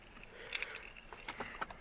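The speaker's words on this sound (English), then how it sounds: "There's the keys." Truck keys jangling inside a shop vehicle's cab, a few light metallic clinks and rattles in short bursts, close and fairly quiet.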